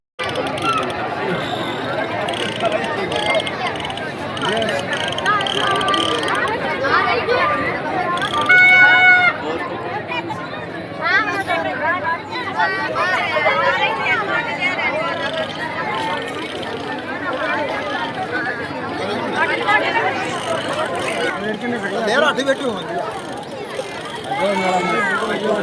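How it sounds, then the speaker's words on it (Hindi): Dense crowd chatter at the Gangaur fair at Lal Talab stadium in Nechhwa, a constant babble of many voices with movement and scattered louder calls, with people talking close by throughout. "कितनी भीड़ भाड़ बताओ? बहुत भीड़ हो रही है।"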